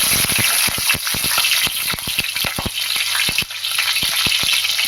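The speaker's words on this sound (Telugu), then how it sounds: "కొద్దిగా ఆవాలు వేసి వేయించుకోవాలి" Mustard seeds fry and sizzle in hot oil as a loud, steady crackle, dotted with many sharp pops at close range while the seeds burst.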